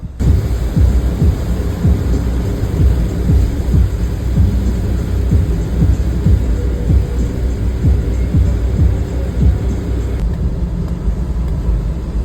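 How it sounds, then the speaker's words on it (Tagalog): Heavy rain pounds steadily on a Suzuki minivan driving along the NLEX expressway, a loud, continuous roar mixed with low road and engine rumble throughout, no voices. "biglang bumagsak ulit yung napakalakas na naman na ulan"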